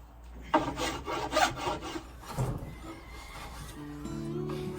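A blade shaves wood from a hickory bow stave clamped in leather, making several rhythmic, close rasping strokes followed by a brief lighter scrape and a faint tonal hum.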